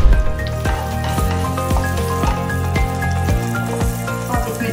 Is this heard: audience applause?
no